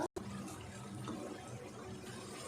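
Lentils and their soaking water poured into a cooking pan of fried masala for a mash daal, giving a steady splashing, gurgling pour that runs throughout after a brief pause at the start.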